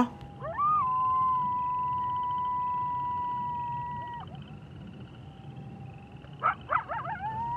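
A long, drawn-out howl with a steady wavering tone, trailing off, followed by a few short yelps near the end.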